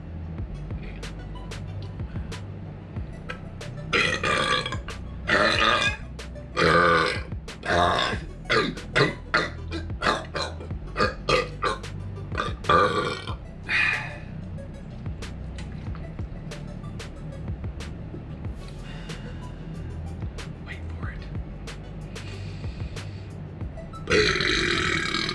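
A man belches repeatedly in a burping contest after a meal, a run of loud, close burps in quick bursts over the first half, then quieter breathing and small sounds before one more burp near the end.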